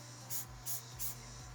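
Three short spray bursts of CA activator onto an ebony pen blank on a lathe, evenly spaced hissing puffs over a low motor hum.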